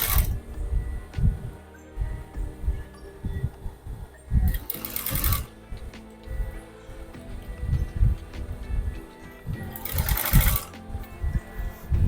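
Sewing machine running a line of stitching through fabric, in short rhythmic bursts of rapid mechanical chatter separated by pauses and handling noises, close and clear.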